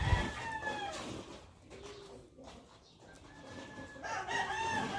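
Chickens cluck and call nearby, with a rooster-like crowing rising over a noisy outdoor background.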